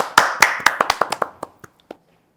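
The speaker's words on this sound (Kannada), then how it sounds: "ಚಪ್ಪಾಳೆ ಹೊಡಿರಿ ನಿಮಗೆ" Around ten sharp hand claps from a small audience at a talk-show chat in an ENT clinic setting, starting quick and close, then slowing and thinning out until a last lone clap.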